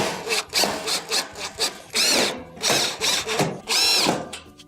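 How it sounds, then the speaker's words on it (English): A power driver sets screws back into the perimeter of a Samsung stove's warming element panel in a series of short, close whirring and grinding bursts separated by brief pauses. "Go around the perimeter and replace your screws."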